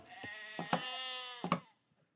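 A sheep in an Age of Empires map lets out a single long, wavering bleat, close and clear, with no talk.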